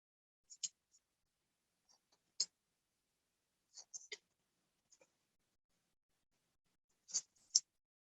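Scissors snipping paper while cutting out a Halloween bat craft, a handful of short, quiet crisp cuts spaced irregularly with silence between them.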